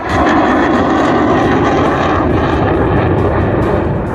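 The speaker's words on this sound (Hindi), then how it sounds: "राफेल लड़ाकू जो आसमान को चीरते हुए आया है और एक्सप्रेसवे को टच करते हुए निकल गया।" Rafale fighter jet passing low over an expressway during an Indian military air show, a loud continuous roaring engine rumble that holds steady throughout.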